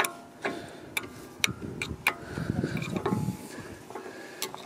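A flathead screwdriver presses metal brake pad clips into place on the front brakes of a MK7 Volkswagen Golf R, giving a series of sharp, close metallic clicks and taps over a low background rumble.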